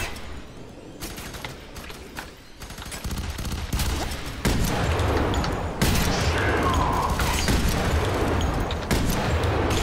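Heavy gunfire in the shooter FEAR 3, with rapid bursts and volleys building in intensity and booming impacts, continuous and loud for several seconds.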